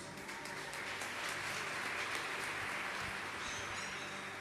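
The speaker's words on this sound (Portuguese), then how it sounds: "Vamos aplaudir ao Senhor por isso?" A church congregation applauds in a soft, continuous wash of clapping that sounds distant and fairly faint, steady throughout with no voices standing out.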